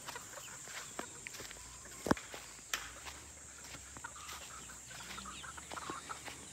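Chickens on a farm in the Philippines, with an occasional cluck amid a busy outdoor ambience, footsteps and scattered knocks. One sharp thump stands out midway.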